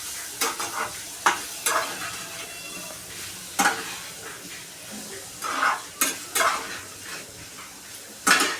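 Boiled, finely chopped potatoes being stirred in a pan over low heat, with scattered scraping and clinking strokes of a spoon against the pan over a soft, quiet sizzle, no one talking.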